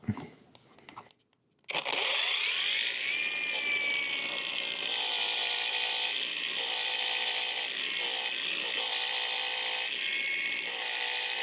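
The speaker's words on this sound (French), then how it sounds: "Là, je finis au disque, c'est du 100, du 80, du 60, mais un peu usé pour poncer." A worn 60 to 100 grit sanding disc on a power tool grinding a shock absorber part from a Duster 4x4, starting after a brief clatter and running as a loud, continuous high whine with slight dips in pitch.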